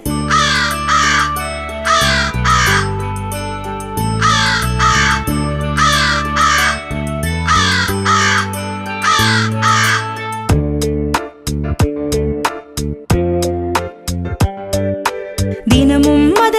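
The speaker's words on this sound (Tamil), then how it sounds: "நரியின் ஆசையை தீர்ப்பது போல் கரிய காக்கை ஒன்று வந்தது" A black crow caws in loud repeated bursts, several rhythmic groups of harsh calls over sustained tonal background sounds, followed by sharper, more scattered clicks and calls.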